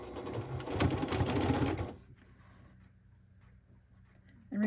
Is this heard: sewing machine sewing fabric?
yes